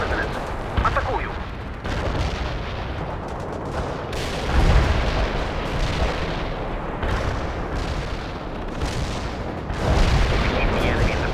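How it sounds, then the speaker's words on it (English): Repeated heavy booms of an artillery strike in the real-time strategy game World in Conflict, with rumbling impacts and a few louder blasts over a continuous din of battle, voices faintly mixed in. "Artillery strike successful."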